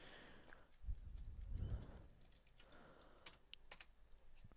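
A web address being typed on a computer keyboard, a quiet run of close key taps with a couple of louder thumps, faint over room noise.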